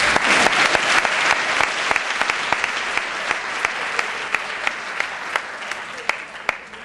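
An audience at a live comedy show applauds a technician testing equipment, loud dense clapping that continues throughout with sharp individual claps standing out, gradually thinning toward the end.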